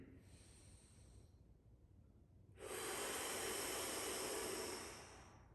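Slow, loud breaths drawn in and pushed out while a stretch is held in an adductor and hip exercise. A soft breath comes first, then a pause, then a long, strong, hissing exhale.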